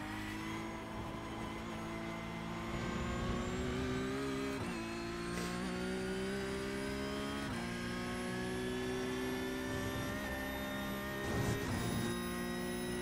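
A Porsche 992 race car engine at Road Atlanta in iRacing, revving steadily with sustained harmonic drone, rising and dropping through gear shifts, loud and continuous without talk.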